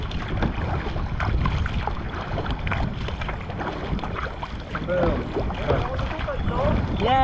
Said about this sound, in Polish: Wiatr się wzmaga